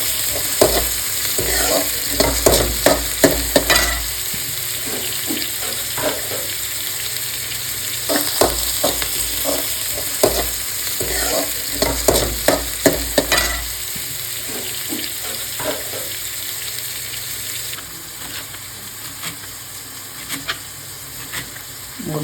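Upma tempering of mustard seeds, cumin and chana dal sizzling in hot oil over lowered heat, a steady frying hiss broken by repeated scraping stirs and spattering pops, close and unaccompanied.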